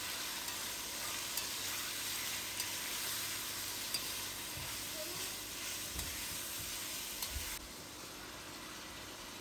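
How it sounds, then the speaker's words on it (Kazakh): Chopped onions fry in hot oil for Uzbek shashpa palau, a steady close sizzle broken by occasional scrapes and light knocks of stirring, with no talking. "үстінен туралынған пиязымызды салып, сары түстес болғанша қуырып аламыз"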